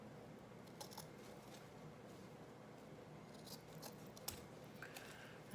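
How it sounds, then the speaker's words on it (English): Scissors cut patriotic kitchen decor ribbon into tiers, making several quiet, crisp snips spaced apart against a faint background. "See how these scissors will work for this."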